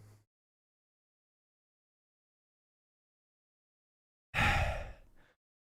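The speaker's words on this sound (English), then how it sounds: "They can hear me breathing heavy." One heavy, breathy sigh blown straight into a close microphone during a live stream, loud and brief, rising suddenly out of near silence after a faint earlier breath.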